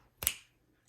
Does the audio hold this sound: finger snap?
yes